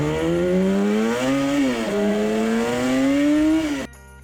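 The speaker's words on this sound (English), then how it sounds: "It means it is a very powerful engine." A Yamaha RD 350 cafe racer motorcycle engine revs loudly and close, its pitch rising and dipping through sustained throttle before cutting off abruptly.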